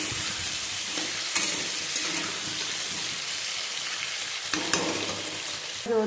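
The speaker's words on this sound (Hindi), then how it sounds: "अब सब्जी दे देते हैं इसमें सारा। इसको तेज आंच में पकाएंगे हम।" Vegetables go into hot oil with panch phoron, dried chilli and asafoetida and fry on a high flame, giving a constant loud sizzle broken by a few sharp stirring clatters.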